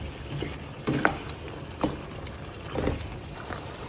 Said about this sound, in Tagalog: Ihalo-halo ko lang siya.